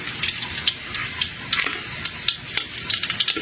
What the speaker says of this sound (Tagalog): mainit na yung mantika. Kaya ilalagay ko na po itong bawang